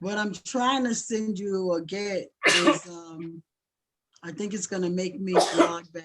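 A person sneezes once mid-conversation, a sharp burst breaking between stretches of nearby talk during a phone-style exchange.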